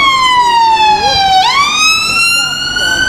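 A close, loud ambulance siren wails on a street, its tone falling, then jumping up and sweeping again in a steady cycle, with faint traffic rumble underneath.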